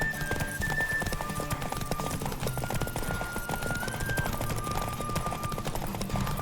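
Galloping horse in The Witcher 3, steady rapid clip-clop hoofbeats running continuously and loud, with a sustained musical score and occasional faint background voices underneath.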